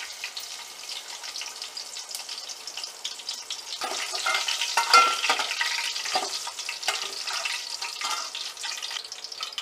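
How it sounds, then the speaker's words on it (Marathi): Curry leaves and garlic sizzling in hot oil for tempering, a steady crackling fry with brief spitting bursts as the pan gets stirred, close and continuous, with no voices. "आता आपण फोडणीसाठी कढीपत्ता आणि लसूण टाकून घ्यायचे आहे।"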